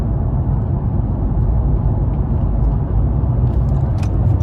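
A 600 HP Honda drives along with a steady, loud, low engine rumble and road noise heard from inside the car, continuous and even throughout without speech.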